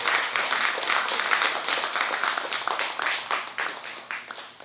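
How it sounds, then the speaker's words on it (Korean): An audience at a Buddhist book launch ceremony applauds a monk, with clustered clapping that swells and then gradually thins and fades out over a few seconds. "여러분, 스님께 큰 박수 부탁드립니다."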